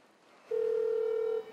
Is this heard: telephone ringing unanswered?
yes